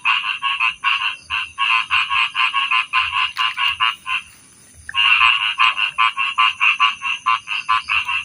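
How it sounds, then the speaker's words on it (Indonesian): A frog croaks in rapid, loud, regular pulses close by, with a brief pause midway before the rhythmic croaking resumes at night outdoors. "Ini katak"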